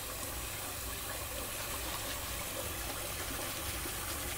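Hot water runs steadily from a tap in a domestic bathroom, a continuous broadband gush with no breaks, fairly close and alone without talk.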